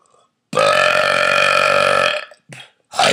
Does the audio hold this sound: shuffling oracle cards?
no